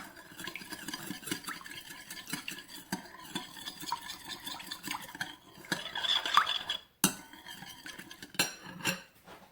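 Ethiopian timatim fitfit, a tomato mixture, stirred in a bowl with a utensil, continuous close scraping and clinking in an uneven rhythm, with a few sharper knocks.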